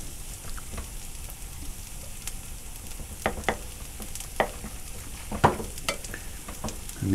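Burger patty ingredients with egg, onions and garlic being stirred and mixed in a bowl, a continuous soft squelching and scraping with scattered small clicks, close and fairly quiet with no talking.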